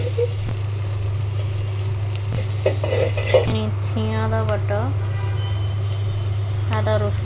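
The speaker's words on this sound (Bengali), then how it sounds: "তারপর আমি পেঁয়াজ দিয়ে দিচ্ছি, কাঁচামরিচ একটু ভাজা ভাজা হোক" Onion and green chili frying in hot oil with spices, a steady sizzle under a low hum, with occasional stirring clinks, while a person talks in the second half.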